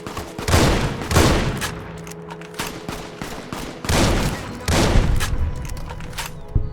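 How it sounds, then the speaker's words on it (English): Gunfire in the game Fallout New Vegas, a loud burst of shots in several clustered volleys with sharp repeated cracks, likely including shotgun blasts, filling the whole stretch without talk. "With bullets whizzing past my head, I pulled out my shotgun and closed the gap with my enemy."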